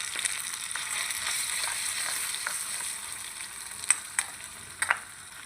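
Cumin, ginger, onion and garlic pastes frying in oil for a spicy liver dish, a bright hissing sizzle with light stirring scrapes and a few sharp clicks toward the end.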